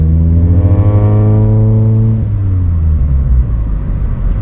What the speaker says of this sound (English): I'm just gonna do a quick brake.